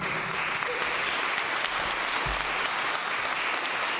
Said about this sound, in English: How about a nice round of applause for Katie?